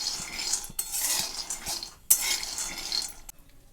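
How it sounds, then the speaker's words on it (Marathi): Peanuts roasting in a pan over a low gas flame, stirred with a utensil that scrapes and clinks against the metal in irregular bursts, close and moderately quiet, with no talking. "शेंगा पण छान असं मंद गॅसवर कडक होईपर्यंत भाजून घ्यायचे"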